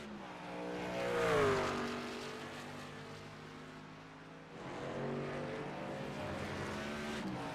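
A racing truck's engine straining and revving in a sim race at Daytona road course, a faint rising and falling whine that dips and climbs again.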